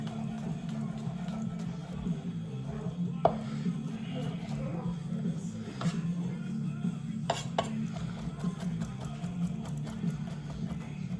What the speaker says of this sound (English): And we'll just do a rough slice on these.